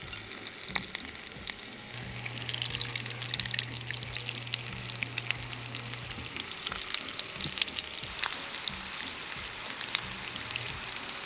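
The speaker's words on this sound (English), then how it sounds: "she has made a mountain of Unfried taquitos, and then we're gonna fry them up" Taquitos frying in hot oil in a pot give a steady, close crackling sizzle with scattered pops, continuous and alone throughout.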